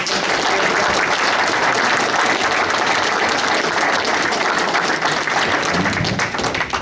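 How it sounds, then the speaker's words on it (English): An audience at an honoring event applauds the catering staff with dense, sustained clapping that stays loud and even throughout, with no voices above it. "And give these people a round of applause."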